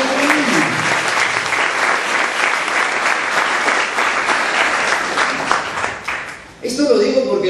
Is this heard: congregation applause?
yes